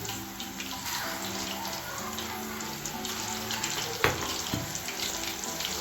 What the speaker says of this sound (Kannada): ಸೊ ಇಲ್ಲಿ ಫ್ರೈ ಮಾಡ್ಕೊತಾ ಇದ್ದೀನಿ